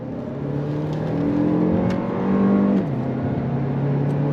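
A 2025 Lexus RX500h F Sport Performance engine accelerates hard, its loud droning note climbing in pitch, briefly dropping at a gear shift from the 6-speed transmission, then pulling again.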